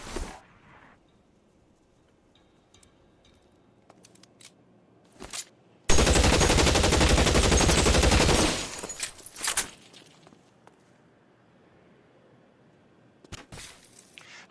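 Automatic gunfire in the video game LA Noire, a sustained loud two-and-a-half-second burst of rapid shots, preceded and followed by scattered single shots and quieter game sounds.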